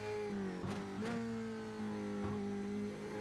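Dallara F3 open-wheel race car engine in a racing game at the Nürburgring, a steady high-pitched drone that dips and climbs with gear changes and throttle, loud and continuous with no talk.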